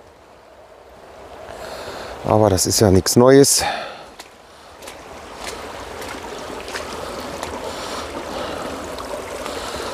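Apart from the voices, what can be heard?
water gushing and bubbling along a stream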